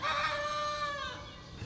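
A young rooster attempts a crow, giving a single short, wavering cock-a-doodle call that lasts under two seconds, heard alone and fairly close.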